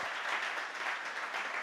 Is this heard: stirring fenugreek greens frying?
no